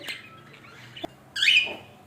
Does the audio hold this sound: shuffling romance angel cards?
no